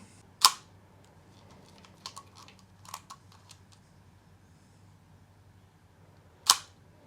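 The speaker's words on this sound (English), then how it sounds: "Here you can see the shutter." A Contax IIa film camera shutter fires twice with sharp, close clicks about six seconds apart, separated by several softer mechanical ticks and handling noises in a quiet room.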